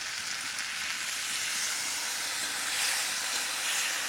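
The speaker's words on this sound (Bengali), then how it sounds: "এই মাংসটা একটু ঢেকে ঢেকে ভেজে নেব।" Duck meat fries gently in a covered pan with ginger paste and a splash of water over low heat, a steady soft hiss and sizzle continuing alone without voices.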